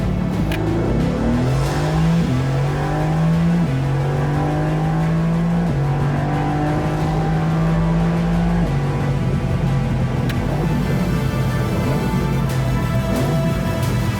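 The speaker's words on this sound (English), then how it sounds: "These turbines blow like hell, and this engine feels enough." A Mercedes-AMG GT R's turbocharged engine revs hard through rising and falling gear pulls, loud and close, with shifts breaking up a continuous growl and turbo whoosh over tire noise.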